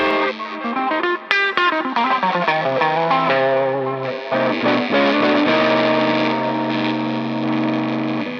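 A Les Paul Custom electric guitar with a Bigsby tremolo plays through both pickups split to single coil, giving a nasal tone. A run of picked notes settles into sustained ringing chords with light effects.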